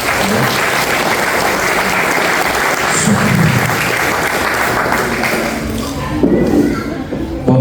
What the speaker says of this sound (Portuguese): Aplauda o Senhor, queridos.